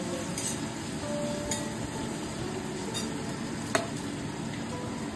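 Onion frying with salt in a pan for a fish dish, a continuous soft sizzle with a few light stirring clinks of a utensil against the pan, close and at moderate volume, no talking.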